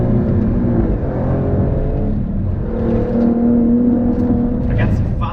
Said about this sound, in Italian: Si sentono i 510 cavalli, mamma mia.